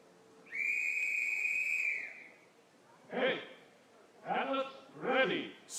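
A referee blows one long, steady, shrill whistle blast to start an event at the STIHL Timbersports British Pro Championship, clear and alone, followed by short bursts of voices.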